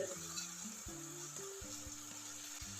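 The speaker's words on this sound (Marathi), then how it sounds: "दोन चमचा पावभाजी मसाला मसाला देखील तेलामध्ये चांगला मिक्स करून घेऊ" Pav bhaji masala, chilli powder and turmeric stirred into hot oil over a low flame give off a steady soft sizzle, with spoon scrapes against the pan and background hum running throughout.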